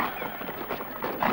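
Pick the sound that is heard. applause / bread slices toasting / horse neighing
horse neighing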